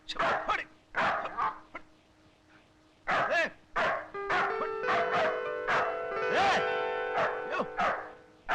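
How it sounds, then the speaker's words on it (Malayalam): A dog barks in loud bursts, some spaced with pauses and others in quick runs, with a steady tonal hum underneath. "പട്ടി വല്ലാതെ കുറയ്ക്കുന്നുണ്ടല്ലോ"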